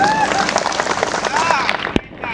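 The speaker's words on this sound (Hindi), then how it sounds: "जोरदार तालियां" An audience at a Gono Hunkar rally held by AASAA at Soraideu breaks into dense, crackling applause under an amplified voice, ending in one sharp clap before it thins out.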